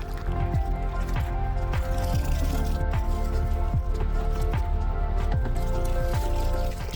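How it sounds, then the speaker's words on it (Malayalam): Water pours steadily into a 20-litre bucket, a continuous gurgling splash with drips, close by and with no talking. "ഇനി ഈ ഇരുപത് ലിറ്റർ ബക്കറ്റ് നിറയെ വെള്ളം ഒഴിച്ചു കൊടുക്കുക"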